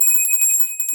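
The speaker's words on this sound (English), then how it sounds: "that little bell is designed" A small bell rings in quick, bright, sustained strokes, clear and close, with no voices.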